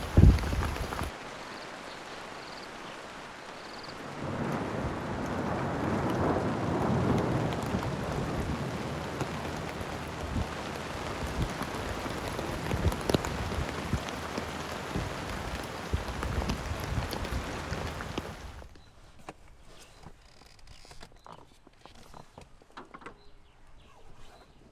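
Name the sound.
rain and thunderstorm at a campsite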